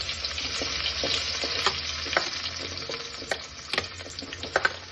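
Vegetables frying for homemade Maggi noodles, a bright continuous sizzle with frequent scraping, clattering stirs of a spoon against the pan, close and without speech.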